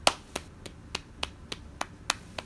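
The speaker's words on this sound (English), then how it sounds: "let me give you a round of applause" One person claps slowly by hand during a livestream chat, about nine sharp, evenly spaced claps close to the microphone with no voices over them.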